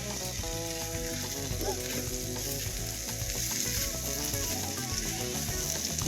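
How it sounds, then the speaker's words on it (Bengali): Fried egg pieces being stirred into sizzling masala in a pan for dim bhapa, with a steady, loud frying hiss throughout and a constant tonal hum over it. "মশলার সাথে ডিমের টুকরোগুলো আমি নেড়ে চেড়ে মাখিয়ে নিচ্ছি"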